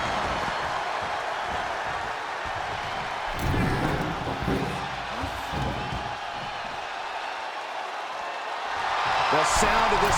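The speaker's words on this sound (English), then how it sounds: "The sound of this crowd is deafening, and he's asking for more." An arena crowd roars and cheers through a WWE 2K23 wrestling match, a dense continuous wash of noise that swells louder near the end, with a commentator talking over it and occasional ring impacts.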